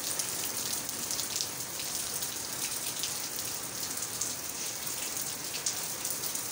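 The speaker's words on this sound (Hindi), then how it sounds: "दोबारा ज़रा तेज़ हो गई है बारिश" Heavy rain pouring steadily in Karachi, a dense constant hiss of drops hitting surfaces close by, with no voices.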